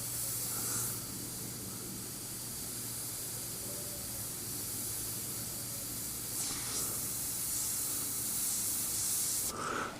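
Airbrush spraying paint onto a baby Michael Myers Halloween mask, giving a steady, soft, continuous hiss that runs throughout with a few faint tonal blips and a brief shift near the end.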